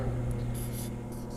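A pen scratches on paper in short, faint strokes over a steady low machine hum from a Ricoh office printer, quiet and close with no voices.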